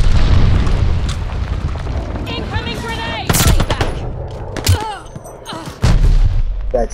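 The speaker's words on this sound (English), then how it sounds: "Friendly sending a glide bomb." Glide bomb blasts and gunfire in Call of Duty: Vanguard, loud close booms and crackling bursts over a rumbling battlefield din, with a couple of sharp impacts standing out in the busy mix.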